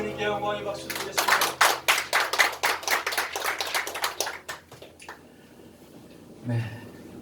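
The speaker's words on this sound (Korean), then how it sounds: "주님께 영광의 박수 드리겠습니다." A church congregation applauds in a rapid, dense burst of clapping that swells and then thins out into scattered claps before fading away.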